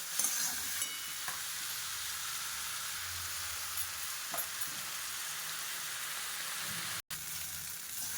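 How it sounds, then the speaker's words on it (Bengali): Chowmein noodles tossed into frying onions in a pan, a steady close sizzle with scraping stir strokes running throughout, briefly cutting out near the end. "এখন এ চলে গেল পেঁয়াজ ভাজার মধ্যে"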